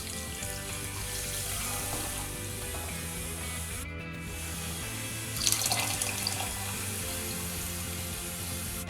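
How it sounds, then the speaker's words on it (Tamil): Two cups of water pour into sugar in a pan to make syrup for moong dal badusha. A steady, close splashing rush runs continuously with a brief spattering surge near the end and no voices. "இது கூட 2 கப்பு தண்ணி சேர்த்துக்கிறேன்."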